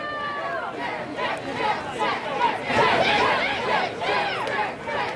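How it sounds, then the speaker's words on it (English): A college baseball crowd at a Stanford versus Washington State game yells in a loud, rising chant urging a strike three, with overlapping voices swelling and ebbing in waves around mid-clip. "Crowd yelling chair, wanting strike three."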